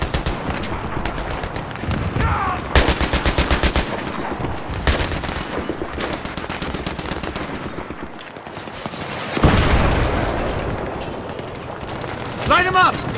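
Rapid machine gun bursts and single gunshots ring out in a Battlefield 3 combat mission, loud and continuous with short pauses, while soldiers shout orders over the firing.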